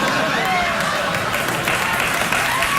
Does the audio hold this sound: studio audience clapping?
yes